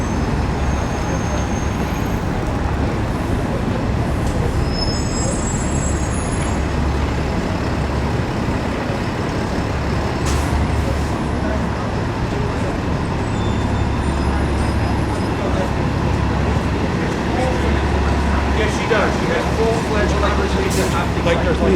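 Downtown Toronto street scene on Yonge Street where shuttle buses run in place of subway Line 1, a steady loud roar of passing buses and traffic with deep engine rumble throughout, heard continuously from the sidewalk.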